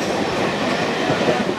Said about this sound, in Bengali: হাফ মিনিটের মধ্যে ট্রেন আবার ছেড়ে দিয়েছে